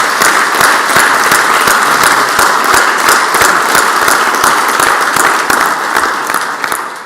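Audience in a state Senate chamber breaking into a big round of applause, dense sustained clapping from many hands at close range that holds steady for several seconds before starting to thin toward the end.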